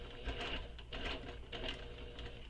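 A sewing machine stitches handbag panels along a drawn seam allowance, running in a quiet, continuous mechanical whir with a rapid needle rhythm, alone and without speech.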